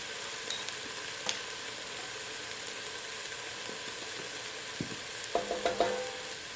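Chili powder and garlic powder are stirred into a pot of chicken tortilla soup over a steady, soft sizzle. A few faint scrapes come early, and clinks of a utensil against the pot sound near the end.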